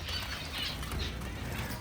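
Finches flap their wings inside a breeding cage on a bird farm, a soft, continuous flutter with faint chirps, heard close and with no talking.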